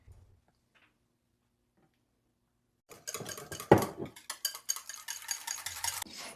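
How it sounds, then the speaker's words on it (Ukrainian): Near silence gives way to close-up stirring: Caesar salad ingredients, including eggs, croutons and fried meat, rustle and squelch as they're tossed around a bowl for a few seconds. "І все гарно перемішуємо, щоб всі продукти поєдналися між собою."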